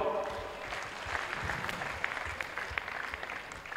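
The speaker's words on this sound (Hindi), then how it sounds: "आहा, थोड़ा जोर से ताली बजाओ।" An audience at a Jain religious ceremony claps, a soft, steady patter of many hands continuing throughout at moderate distance, with a voice faintly present underneath.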